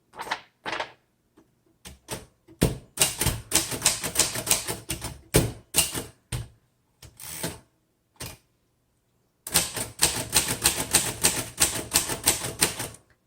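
Keys clatter on a 1935 Royal Model O manual typewriter in bursts of rapid close mechanical strikes, with a few isolated taps, a short pause, then another steady run of typing.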